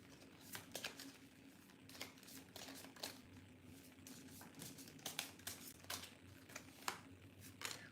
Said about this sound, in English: That's a lot of cards. Let's keep shuffling.